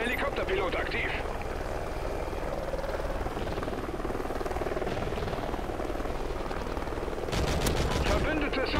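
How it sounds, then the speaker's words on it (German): Allied helicopter in the Call of Duty Ghosts video game, a continuous rotor drone with bursts of gunfire layered over it and a louder rattle of shots near the end. "Verbündeter Helikopterpilot aktiv."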